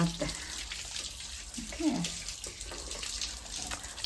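Tap water runs steadily while hands are washed, a soft continuous splashing rush that lasts throughout, with a voice speaking briefly over it.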